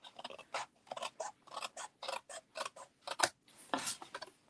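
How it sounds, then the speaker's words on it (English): Scissors snip repeatedly in quick, close bursts, a steady run of short crisp cuts. "you can just trim with your scissors, with your snips."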